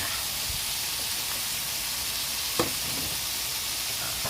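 Sliced bitter gourd (ampalaya) dropped into a hot pan, giving a steady close sizzle and hiss of frying with a single clink of a utensil midway, no voices.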